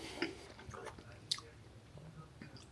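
Close, quiet chewing of hot spaghetti noodles being tasted, soft wet squishes with a couple of sharper bites and smacks, faint and intimate with no talk.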